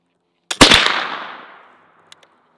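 A .32 caliber flintlock rifle firing outdoors, a sharp ignition crack followed closely by the loud main report that decays over about a second, then two faint ticks.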